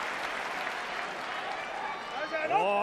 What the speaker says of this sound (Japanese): 大きな拍手が送られています。